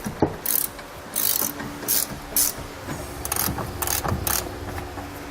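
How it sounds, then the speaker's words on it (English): A hand ratchet fitted with an 11/16 socket tightens trailer hitch hardware on a 2016 Lincoln MKC, giving loud, close bursts of clicking strokes with short pauses between pulls and no talking. "11/16 socket, we're going to tighten all of our hardware on our hitch"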